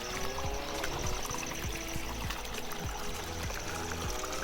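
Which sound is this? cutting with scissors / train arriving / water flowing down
water flowing down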